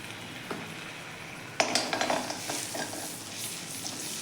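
Cumin seeds and asafoetida frying in hot oil, a continuous crackling sizzle with a sharp burst of spattering partway through and quiet clinks of a stirring utensil against the pan.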